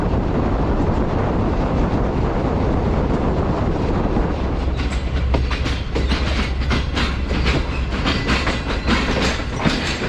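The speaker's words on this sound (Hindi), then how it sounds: "हमारी ट्रेन 5 अप्रैल लाइन पास थ्रू हो रही है वज़ीराबाद जंक्शन से स्लो स्पीड के अंदर" A Green Line train rolls slowly through Wazirabad Junction on the Lahore to Rawalpindi run, with a steady low rumble and wind noise, then a quickening clickety-clack of wheels over rail joints in the second half, loud and close.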